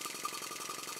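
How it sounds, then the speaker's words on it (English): A Markie scenic showman's steam engine, a small model engine, runs fast with a rapid, even mechanical chuffing and clatter, steady and fairly faint, with no voices. "I'm running the engine fast just to make sure nothing falls off it."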